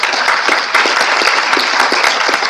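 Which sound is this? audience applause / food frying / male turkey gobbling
audience applause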